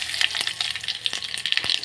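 Curry leaves dropped into hot oil with cumin and mustard seeds for a chutney, giving a dense, crackling sizzle with rapid pops, close and steady, with no voices.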